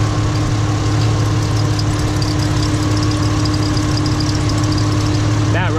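A Ford Mustang engine idles steadily at close range, a constant low drone with a faint whine that could come from a worn pulley or belt, running without a break throughout.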